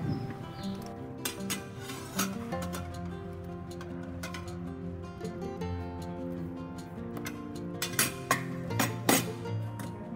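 Malagkit being stirred into guinataan halo-halo in a pot, with scattered metallic clinks and scraping of a utensil against the pot at an irregular pace, fairly quiet and close.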